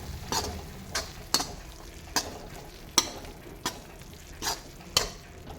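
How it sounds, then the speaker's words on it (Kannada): Pudina (mint) rice mixture fries in a pan with a steady sizzle. About eight evenly spaced spatula scrapes punctuate the sizzle, close and clear, with no talking. "ಒಂದು ಪ್ಲೇಟ್ನ ಅದನ್ನು ಸ್ವಲ್ಪ ಫ್ರೈ ಆಗೋಕ್ಕೆ ಬಿಡೋಣ"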